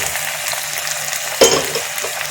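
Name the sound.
fried potatoes and papaya poured into pressure cooker with mutton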